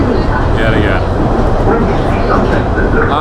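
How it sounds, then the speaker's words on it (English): A London Underground Central line tube train runs at speed with a loud, continuous rumble and rattling wheel noise, steady throughout. "Back on the Central line, heading towards the Central line terminus at Epping"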